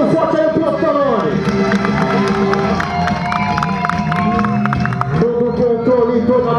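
A crowd at a Honda CBR600RR motorcycle stunt show cheers and shouts steadily while an announcer talks over the noise throughout.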